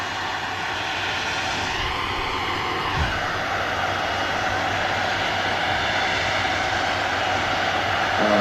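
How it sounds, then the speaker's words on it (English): An Aer Lingus A321 taxiing out at Manchester Airport, a loud, steady jet engine whine and roar close by, with a sweeping tonal shift early on and a continuous rumble throughout. "Lingus A321 on the taxi out as well"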